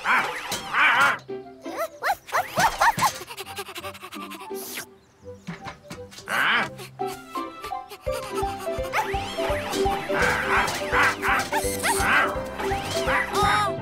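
Several sharp dog barks and yips from a cartoon dog ring out amid busy cartoon music and sound effects, loud and close.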